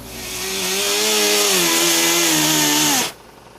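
A power grinder works filler on a Fiat Spider body panel with a loud, sustained whine that rises slightly in pitch and then cuts off abruptly after about three seconds.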